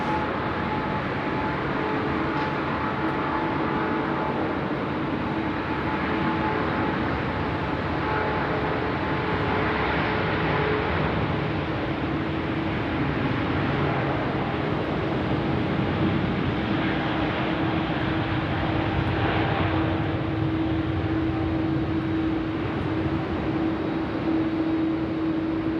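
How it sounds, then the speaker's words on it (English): Airbus A380 jet airliner on final approach to runway 16 right at Sydney Airport in wet weather, a steady broadband roar with a low engine drone that swells slightly toward the end, heard alone without talk. "Right, the A380, Singapore 231 in from Singapore now. Finals, runway 16 right."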